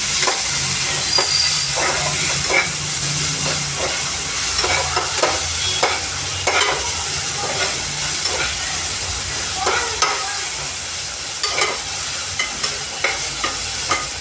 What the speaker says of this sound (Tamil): இஞ்சி பூண்டு பேஸ்ட்டு ஒரு ஸ்பூன் அதே பச்சை வாசனை போகிற அளவுக்கு நல்லா வதக்கிக்கணும்